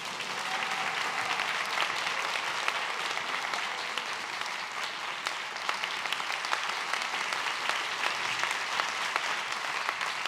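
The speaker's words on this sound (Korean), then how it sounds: "대표님 나오실 때 할렐루야로 하나님께 영광 돌리며 박수로 맞이하겠습니다." A church congregation of young adults at a Yoido Full Gospel Church prayer meeting applauds in a sustained, even burst of clapping that holds steady for about ten seconds, dense and moderately loud.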